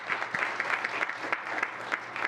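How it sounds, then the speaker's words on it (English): An audience at a town council meeting claps for a team, giving a brief, even burst of applause at moderate loudness. "a round of applause to both of you and to the whole team"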